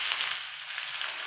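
Tilapia fries in hot oil in a frying pan, giving a short, even, bright sizzle at moderate level with no voices.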